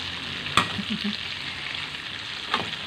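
Sausage fries in a pan with a soft, steady sizzle, broken by a couple of sharp clinks from stirring.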